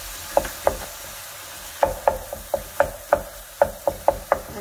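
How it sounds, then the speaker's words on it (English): Ground beef breaking up and stirring in a hot pan during weeknight dinner prep, a series of sharp scraping, clicking knocks in uneven bursts with a soft sizzle beneath, close and fairly loud. "going in with my ground beef"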